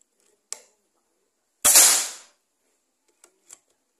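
A Predator Mahameru PCP air rifle fires one sharp, loud crack with a brief ringing tail. A few small clicks from handling the gun come before and after it, and nobody talks.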